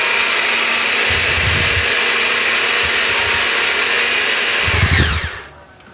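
A grinder whines loudly and continuously while processing mackerel fish meat, its motor pitch steady with low thumping bursts, then winding down and fading at the end.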